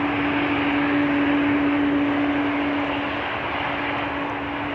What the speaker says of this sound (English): you might pick up on the sound of an approaching A330 already